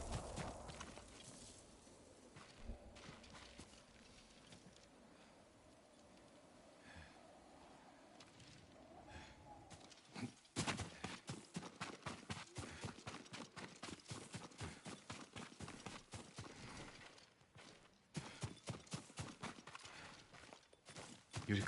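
Horse hooves clip-clopping on a path in the video game Ghost of Tsushima. The steps are faint and sparse at first, then become a steady, close, rhythmic run of hoofbeats with a few brief pauses.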